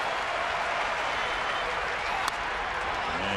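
A Twins home crowd at a Saturday afternoon baseball game against the Tigers cheers and applauds steadily for the whole moment. The roar is loud and even, and it comes across as broad, distant crowd noise.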